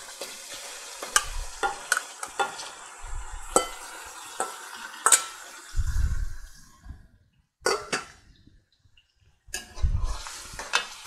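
Mutton, about a kilo, stirred and fried in a pan, with sharp scraping stirs and clatter over a steady sizzle, broken by short quiet gaps and a few low thumps.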